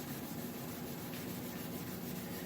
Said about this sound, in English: I'm using this as my paint stick with 600 grit sandpaper, and all I'm doing is sanding across that sag.